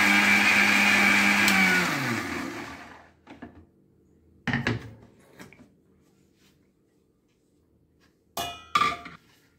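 An electric wet grinder grinding rice into batter whirs loudly for about two seconds, then winds down and stops. Scattered clanks and knocks follow as the drum and lid are handled.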